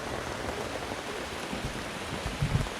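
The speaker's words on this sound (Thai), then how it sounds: "ฝนลงมาครับแล้วตอนนี้เริ่ม" Rain falling at a campsite by a waterfall, a steady hiss of dense drops on surfaces with a few closer patters, moderate and continuous with no talk.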